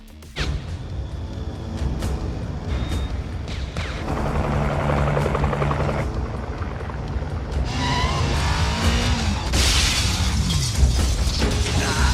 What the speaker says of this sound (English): filming a helicopter freeway pursuit under and over bridges